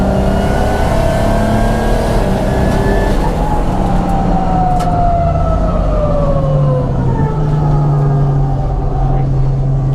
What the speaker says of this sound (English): Then you can hear the traction control coming in.